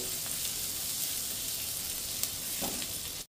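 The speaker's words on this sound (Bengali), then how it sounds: "আদা কুচিটা দিয়ে একটু ভেজে নেব নেড়ে চেড়ে" Chopped ginger fries in hot oil with a constant close hiss, stirred now and then with a soft scrape and a brief clatter near the end.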